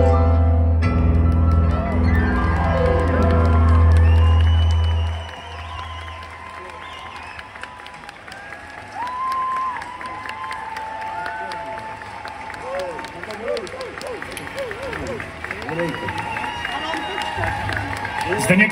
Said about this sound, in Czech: Ještě tleskejte, čas na to je, klidně.